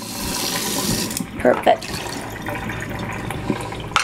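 Tap water runs into a sink as a tea container is rinsed out, a steady close splashing flow with a couple of brief louder gushes and sloshes, and a voice speaks briefly.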